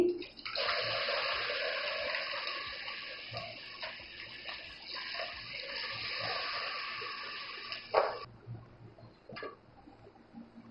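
Water pours steadily into a pot for mutanjan rice for several seconds, a continuous rushing pour that cuts off sharply, followed by a few faint clinks and quiet handling noises.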